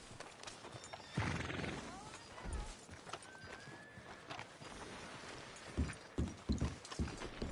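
A horse whinnies in Red Dead Redemption 2, followed by scattered hoof clops and mechanical clatter, with voices and game effects mixed in at moderate volume.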